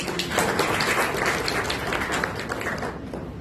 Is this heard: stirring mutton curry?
no